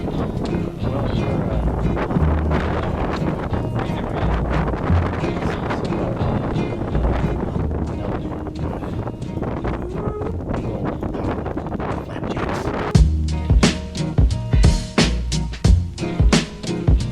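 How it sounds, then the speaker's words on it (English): Strong wind gusts buffet the microphone on a 14th-floor rooftop, a loud, steady roar that runs throughout with heavier thumping bursts toward the end. "the wind was absolutely fierce"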